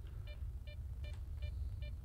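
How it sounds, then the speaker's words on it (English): An anomaly detector in the video game S.T.A.L.K.E.R.: Shadow of Chernobyl gives five evenly spaced electronic beeps over a low rumbling background drone. "As soon as you hear the detector beeping, grab the bolts and toss them in front of you."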